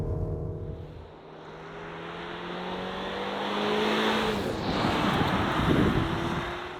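A Mercedes-Benz GLC driven on a wet track, heard from inside the cabin: a steady broadband road and tyre roar with a low engine drone that swells and rises in pitch, loud and continuous with no talk.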